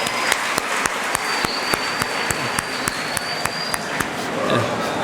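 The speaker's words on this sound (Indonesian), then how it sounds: "Kasih tepuk tangan untuk Ajis ya." An audience applauds a student at an Islamic boarding school event, a steady burst of clapping with a few sharp claps standing out, sustained for several seconds. A voice speaks over it.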